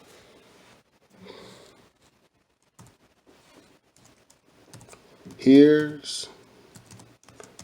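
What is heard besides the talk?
typing on a computer keyboard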